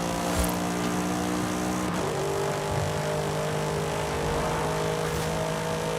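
An off-road car's engine drones steadily as it drives in Forza Horizon 5, its tone dipping and shifting around two seconds in, loud and continuous with no voices.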